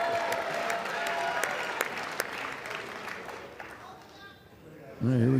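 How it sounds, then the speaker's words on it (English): Applause from the audience at a televised presidential address to Congress, a sustained wash of clapping that slowly fades, with a close voice breaking in at the end. "Most of that clap is coming from his mic"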